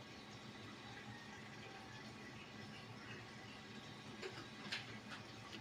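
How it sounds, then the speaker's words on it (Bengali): Water pours into a cooking pot of oil-free vegetable curry, heard as a faint continuous gushing fill, quiet and even throughout with no speech. "এরপর দিয়ে দেব পরিমাণ মতো জল"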